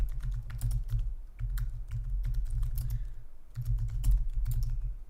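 Someone types on a computer keyboard to put text on screen: quick bursts of crisp keystroke clicks broken by short pauses, close and clear over a low steady hum.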